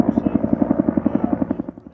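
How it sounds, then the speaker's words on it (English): A firefighting helicopter working the Blue Cut Fire thumps overhead, its rotor beating in a loud, fast, even pulse close by, with a voice talking over it. "including 17 helicopters that repeatedly make the round-trip flight from the pond at Incident Command"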